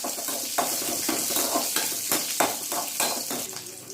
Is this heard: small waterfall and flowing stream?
no